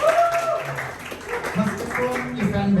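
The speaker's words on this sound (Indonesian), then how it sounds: "tepuk tangan dulu atau untuk Right for Charity" Audience applause for a Ride for Charity podcast, a short burst of clapping heard alongside talking voices.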